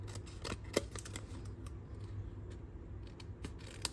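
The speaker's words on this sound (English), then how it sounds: "you wanna just trim them off, matching the edges of your card" Scissors trim the edges of a paper card in a series of short, crisp snips at an irregular rhythm, close and fairly quiet, with no talking.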